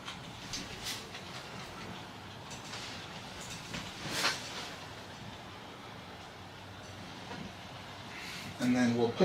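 An On30 scale model locomotive runs forward on a DC layout, giving a faint, steady rolling rumble with soft clicking, a brief louder swell in the middle and a sharper burst of noise at the end.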